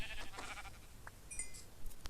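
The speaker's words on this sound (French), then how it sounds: "Petit mouton, es-tu prêt à mourir?" Sheep bleating in the Minecraft video game, a few short wavering bleats in quick succession at moderate volume, followed by brief clicky game sounds.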